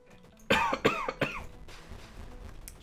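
Three sharp, close coughs in quick succession, followed by a softer throat-clearing rasp, heard alone over a quiet room.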